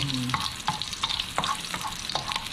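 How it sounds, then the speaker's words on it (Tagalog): Garlic sautéing in hot oil in a home kitchen, a continuous close sizzle broken by frequent scraping stirs and light clicks of the spatula against the pan, with no voices. "Umpisa na po natin maggisa. Ayan. Lagay na po natin yung bawang."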